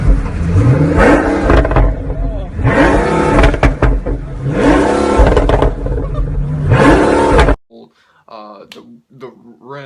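A straight-piped Pagani Zonda Cinque Roadster revs hard in four loud, close bursts, each rising and falling in pitch with raw exhaust crackle, then the engine cuts off to a quieter idle.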